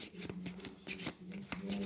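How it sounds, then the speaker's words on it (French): A deck of cards being shuffled during a solo game of Marvel Champions, quick papery riffles and flicks heard close, with someone talking over them. "et du coup mélanger le deck"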